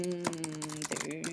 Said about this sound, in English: I would just start typing